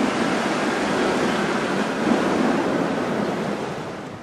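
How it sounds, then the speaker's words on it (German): Strong wind rushing through a forest in the video game The Plan, a steady broad whooshing roar that holds evenly for a few seconds without pause, with no talking. "der Wind ist ganz schön stark heute"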